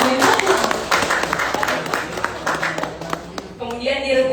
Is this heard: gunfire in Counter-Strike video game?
no